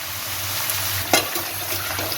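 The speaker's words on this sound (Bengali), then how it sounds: "দেখুন এটা ভাজা ভাজা হচ্ছে" Vegetables frying in a pan give a steady, dense sizzle throughout, close by, with a brief louder spatter partway through.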